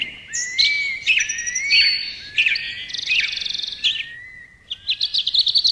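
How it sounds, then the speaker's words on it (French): Bright, close birdsong: a sequence of clear whistled phrases, chirps and rapid trills, one bird singing in varied bursts with short pauses between. "c'est le chant des oiseaux"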